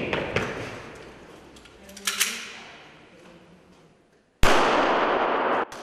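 Makarov pistol shots at a shooting competition between service teams on a 25-metre range: a few sharp cracks with ringing decay, then a sudden loud burst of noise.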